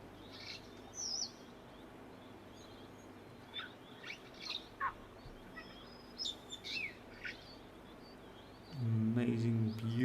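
Small cordon bleu finches give thin, high chirps and brief tweets at a waterhole. The calls are scattered and close over a low outdoor hum, and a louder low sound swells near the end.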